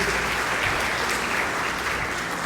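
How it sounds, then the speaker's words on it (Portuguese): A church congregation applauds during a service, a dense steady wash of clapping at even loudness throughout, fairly close and full. "dá uma salva de palmas para Jesus."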